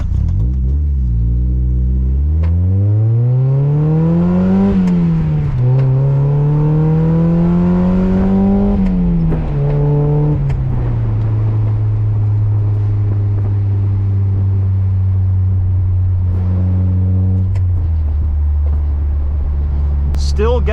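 A 25-plus-year-old Mazda NA8 MX-5 Miata with a small naturally aspirated four-cylinder pulls hard through the gears, engine note climbing, dropping at each shift, then settling into a steady cruising drone.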